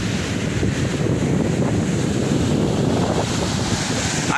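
Sea waves and wind at Praia do Presídio beach in Ceará, a constant loud roar of surf and gusting wind with no pauses.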